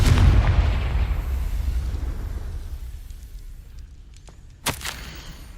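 A Confringo fire spell in Hogwarts Legacy bursts with a heavy booming explosion that rumbles and slowly fades, followed by a couple of sharp crackling pops near the end. No one speaks.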